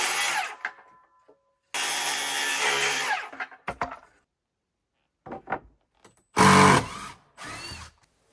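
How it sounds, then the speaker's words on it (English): Trim boards fastened with four screws each being pried off a log cabin window on an off-grid homestead, heard as several loud separate bursts of wood scraping and creaking, with short sharp knocks between them and brief silences. "So while this caulking is still wet, I'm going to pop these boards off."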